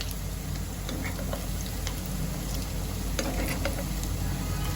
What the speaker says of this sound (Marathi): आता ह्यांना मी चांगलं प दुसऱ्या साईडनी पण परतून घेते